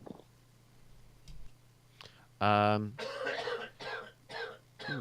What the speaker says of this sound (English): coughing pretty loud